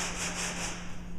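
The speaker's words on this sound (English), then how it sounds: "If I'm having a conversation and I'm sanding like this" Wood being hand-sanded with sandpaper in a classroom workshop, a close, steady scratchy rubbing with a repeating back-and-forth stroke rhythm, heard alone without talk.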